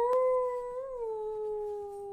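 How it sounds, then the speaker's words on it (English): A dog gives one sustained, wavering howl that dips slightly midway, with a short scratchy noise near the start, fairly faint with no talk. "I was trying to teach my stepsister's dog how to howl"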